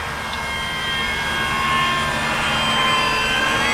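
Large-scale RC Cessna 182 model airplane flying, its engine a steady whine with shifting tones as it passes low and slow, growing slightly louder.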